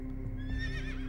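A horse whinnies once, a short rising and falling neigh heard fairly quietly at a distance, with no other notable sounds around it.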